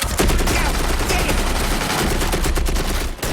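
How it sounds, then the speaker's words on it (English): A roughly 70-year-old, two-person machine gun fires on a film set, a dense, loud, continuous burst of rapid shots at close range that runs almost the whole time without a break. "It's a 2-person gun"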